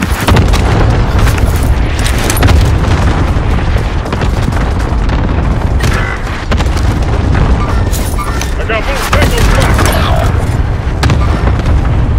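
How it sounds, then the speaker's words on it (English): Precision airstrike explosions in Call of Duty land as loud, continuous booming blasts with rumbling low end and crackling debris, one detonation rolling into the next, while a voice speaks briefly over the din. "Precision airstrike"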